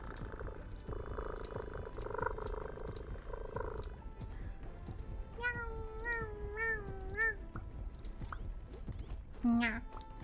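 In the video game Capitalist Cat, a cat gives several melodic, wavering meows at close range over a steady low purr and regular soft ticking, ending in a sharper cry, while a voice talks intermittently.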